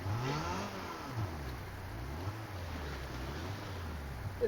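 A Fortnite car engine revs up and down repeatedly in a steady wavering hum, fairly quiet, with no voices.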